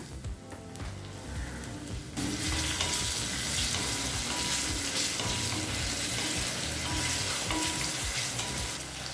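Onion and tomato fry in hot oil in a kadai for a village-style rice dish, a steady loud sizzle that swells suddenly after two seconds as the vegetables go in, with no talking.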